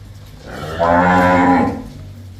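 A single long, low moo from a Jersey-Sahiwal cross cow with a calf, loud and close, rising and then fading out.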